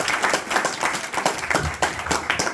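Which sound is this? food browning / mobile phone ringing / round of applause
round of applause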